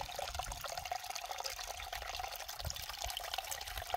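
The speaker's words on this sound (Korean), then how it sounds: "돌물이 졸졸 흘러내려오고 있습니다." Mountain stream water trickles and babbles continuously at a soft, steady level in a remote spring valley, with no voices over it.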